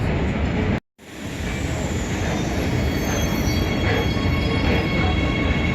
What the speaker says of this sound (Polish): W Warszawie można także odwiedzić metro.